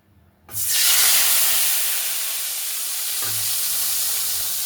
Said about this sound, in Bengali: এবার তেলে দিয়ে দেবো মশলাটা।